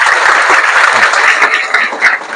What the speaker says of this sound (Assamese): অজয় কুমাৰ এক্কা ছাৰৰ কাৰণে এটা হাত চাপৰি দিয়া